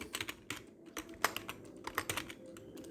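A computer keyboard typed on while writing R code, a quick run of light, uneven key clicks and taps, close and steady, with no voice over it.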